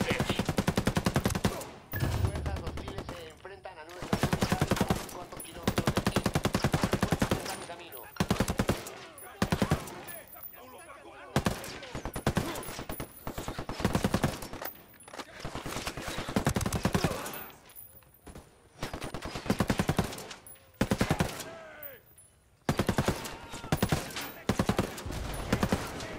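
Gunfire tears through walls in a bomb-defusing shooter game: long bursts of loud automatic fire broken by short pauses and scattered single shots, with some speech mixed in.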